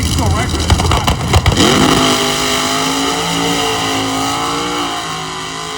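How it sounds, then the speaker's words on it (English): A drag-racing hot rod car at Hot Rod Drag Week accelerates hard, a loud roaring engine surging with brief pops, then a steady high drone as it pulls away, with an announcer talking over it. "That Dirty Diamond being driven by Chris Thomas."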